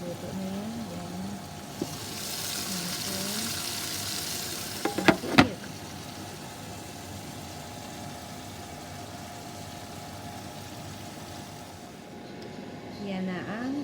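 Pork chops fry in a covered pan, giving a steady soft sizzle with a brighter hiss early on and a short cluster of sharp clicks and pops near the middle. Low background hum runs throughout.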